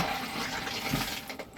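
An RV toilet flushing in a small bathroom, a steady rush of running water that holds for more than a second and then tapers, close and fairly loud with no speech.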